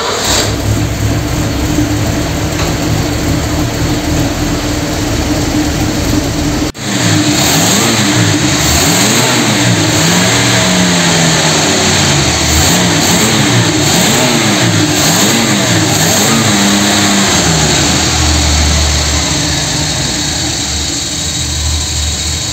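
A collector-condition Argentine Ford Falcon engine cranks and catches after a brief pause, then revs up and down repeatedly in loud, rising and falling bursts over a steady idle, with no talk.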